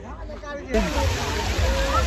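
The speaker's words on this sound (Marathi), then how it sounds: "बघा पाणी कसं उडतंय गरमागरम" Hot water splashing and sloshing at a crowded temple site, a continuous watery rush that starts abruptly partway in and stays loud, with crowd noise and voices mixed in.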